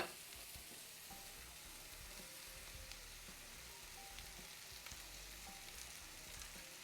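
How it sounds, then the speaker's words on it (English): Cabbage frying in a hot pan gives a faint, steady sizzle and crackle that runs evenly throughout, quiet and close with no talk over it. "Gonna add my cabbage."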